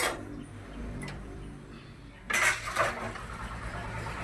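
A cooking pot of jackfruit and potato boiled with salt and turmeric is lifted off the stove, giving a soft metallic clatter and scrape midway through, faint against a quiet kitchen background.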